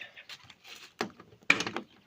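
A Lada (Zhiguli) car's rear door thuds shut once, then a second solid slam follows shortly after, close and fairly loud, with faint rustling in between.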